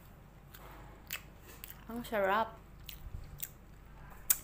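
A crunchy fried samosa is bitten with one short crisp crunch, then chewed close up, with talking before and after.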